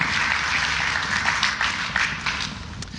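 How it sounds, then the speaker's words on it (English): A room claps for a waltz demonstration at a dance lecture: a dense, steady burst of applause that keeps an even texture throughout. "That deserves a round of applause."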